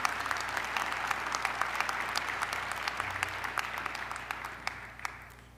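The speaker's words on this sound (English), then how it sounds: "Let's give them a round of applause." Steady applause from an audience honoring Senators Chuck Schumer and Kirsten Gillibrand at a medallion ceremony with Mayor de Blasio, dense clapping at an even level throughout with no talk.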